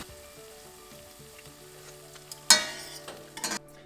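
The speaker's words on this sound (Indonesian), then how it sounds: "Kita mau aduk." Aglio olio sizzling and frying in a pan, with quiet scraping and stirring at first, then a sharp loud burst of hissing sizzle as something hits the hot oil partway through, fading near the end.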